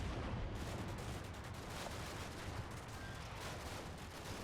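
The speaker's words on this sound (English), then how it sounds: "There's lots of machine gun fire going around" Dense, continuous gunfire and distant battle noise from the Combat Mission: Cold War war game, a steady crackling wash of machine gun bursts heard faintly without talk.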